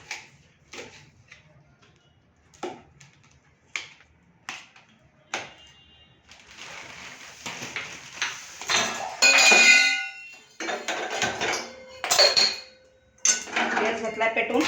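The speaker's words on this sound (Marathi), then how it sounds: "कांदा घेतलाय कापून, मिरच्या कापते." Sharp knife taps on a cutting board as green chillies are chopped for poha in a home kitchen: a few spaced single chops at first, then busier clattering of utensils and pans, close and fairly loud.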